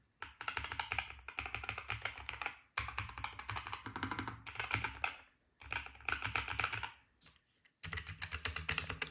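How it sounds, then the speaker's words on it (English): Rapid, steady typing on a NuPhy Air75 V2 low-profile mechanical keyboard fitted with Gateron Cowberry switches, a dense close-up patter of key clicks with a few brief pauses. "this is NuPhy Air75 V2 with also actually that's Gateron's Cowberry."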